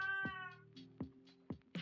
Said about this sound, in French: Je sais pas si vous l'avez entendu, il y a le chat qui vient.